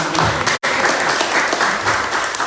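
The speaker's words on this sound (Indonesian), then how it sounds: "Tepuk tangan berapa?" Audience applause at a community gathering, a thick, loud wash of clapping from a large crowd that briefly cuts out for an instant and then continues steadily to the end.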